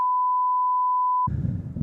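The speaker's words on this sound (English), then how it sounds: "Beep it, maybe beep it." A steady censor beep sounds for over a second as a single pure tone, then cuts off abruptly into muffled talk.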